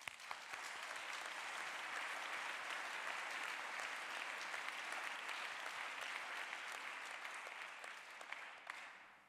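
A concert-hall audience at an awards ceremony for a young conductors' competition gives sustained, even applause, a dense wash of clapping heard from within the crowd, with no voices.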